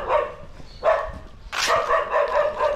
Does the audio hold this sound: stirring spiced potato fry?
no